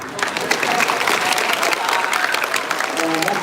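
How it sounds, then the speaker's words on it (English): Loud, sustained applause from a crowd at an 8th grade middle school graduation, steady clapping with a few cheers mixed in, a voice briefly audible near the end. "And now you can applaud."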